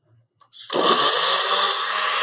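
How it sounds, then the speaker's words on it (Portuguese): Kitchen blender whirring loudly as it processes banana, cornmeal, and oil cake batter, starting abruptly after a brief click and running steadily and close. "processei todos os ingredientes, menos o fermento, que eu vou colocar agora aqui dentro do liquidificador mesmo"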